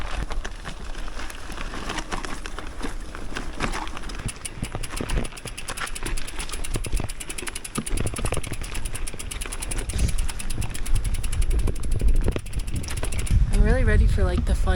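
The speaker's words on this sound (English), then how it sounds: "The bike's rolling." A mountain bike rolling along a trail, with dense rapid mechanical clicking from the freewheel and rattling over rough ground, a steady close rumble under a rider's talk.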